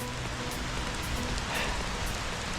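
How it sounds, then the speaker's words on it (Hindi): Heavy rain falls while someone walks outdoors on a hike near Garmisch, Germany: a dense, steady hiss of drops on surfaces, constant and fairly loud throughout, with no speech. "काफ़ी तेज़ बारिश हो रही है।"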